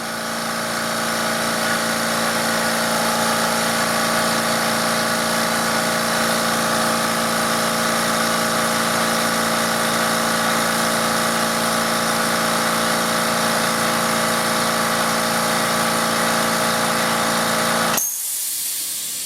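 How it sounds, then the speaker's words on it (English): A California Air Tools air compressor runs steadily at close range with a loud, constant motor-and-pump drone while building pressure, then cuts off abruptly near the end. "Just let her pump up for a second."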